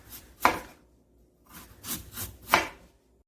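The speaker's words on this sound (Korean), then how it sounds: "이렇게 썰어서 채를 쳐주시면 돼요" A knife julienning a radish on a cutting board makes four sharp, separate strokes, close and fairly quiet, spaced unevenly with brief silences between them.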